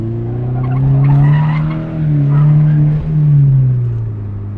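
A Subaru BRZ sports car with about 200 horsepower drives hard as its tires squeal and skid in long wavering howls over a steady engine drone, close and loud.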